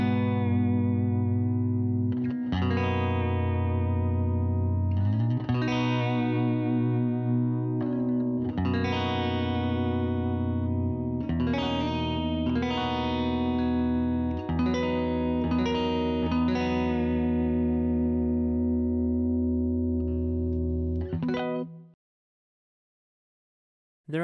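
A Fender Jazz Tele electric guitar plays a series of ringing chords and notes through a tremolo effect, steady and close, before cutting to silence at the end.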